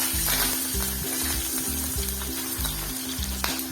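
Curry leaves and green chillies drop into hot tempering oil for dhokla, giving a loud, continuous crackling sizzle over a steady, rhythmic low thumping beneath it.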